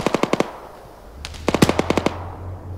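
Automatic gunfire in the ArmA 3 video game: two sharp, rapid bursts of about five or six shots each, separated by a short pause with a low engine rumble beneath.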